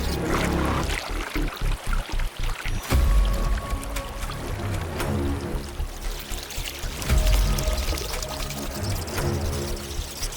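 A bulldog bat drops to skim a river surface in the Amazon to snatch a fish, its claws kicking up loud, close splashes in rapid bursts with churning water that keeps surging, no voices present.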